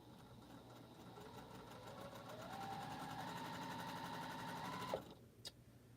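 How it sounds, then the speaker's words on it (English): A sewing machine stitches quilt seams in a steady, close whirring run for about five seconds, then stops with a sharp click. "I needed to do this so that I can get both of these seams on here sewed"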